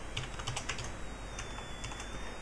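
Quick, light clicks of typing on a computer keyboard, a short run of keystrokes, faint and close, with no voices.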